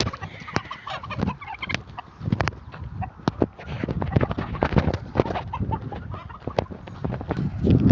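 A turkey gobbles in short bursts amid other fowl clucking nearby on a small farm, the calls scattered irregularly over a faint outdoor background.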